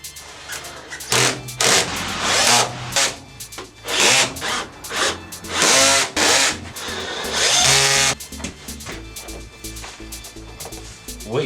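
A power drill with a magnet hot-glued to it whirs in repeated bursts of a few seconds each while windows are fitted, close and loud, with knocks and handling sounds between the runs.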